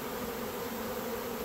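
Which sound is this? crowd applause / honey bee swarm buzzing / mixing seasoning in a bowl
honey bee swarm buzzing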